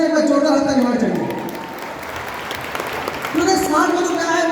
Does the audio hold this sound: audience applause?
yes